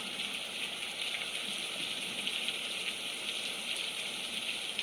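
Steady rain falls on a very rainy day, a continuous hiss with fine patter and no voices.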